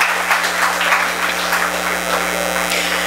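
Steady applause from an audience at an evening awards and launch ceremony, a dense wash of clapping that holds even and fairly loud throughout, with a constant low electrical hum underneath.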